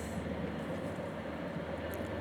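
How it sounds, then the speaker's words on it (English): Low, steady rumble of a passing train, a constant broad roar with no breaks, fairly distant and unaccompanied by talk. "we got a train coming, so it's gonna get a bit hard, a little more challenging to hear me."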